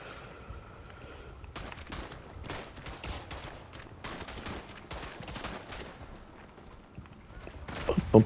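Rapid bursts of gunfire from the World War I shooter Verdun, with close, sharp shots clustered in irregular volleys and a louder thump near the end.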